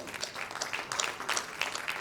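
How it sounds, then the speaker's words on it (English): Scattered, fairly faint applause from a conference audience honouring Dr. Rajesh Sinha at the R. P. Tandon extramural oration, an uneven patter of separate claps over about two seconds. "Please clap for him."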